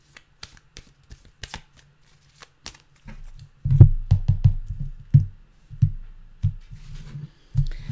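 Someone shuffles a deck of tarot cards by hand during a reading. Sparse light taps and flicks give way to a denser run of soft riffling and thumping shuffles, close and fairly quiet, with no talking.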